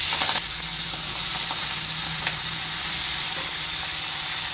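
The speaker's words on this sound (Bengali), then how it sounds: "এই তেলে কিন্তু আমি এখন 5 ফোড়ন দিয়ে দেবো।" Panch phoron spices hit hot oil left from frying fish, giving a steady, close, fairly loud sizzle and hiss with a few faint crackles that runs unbroken throughout.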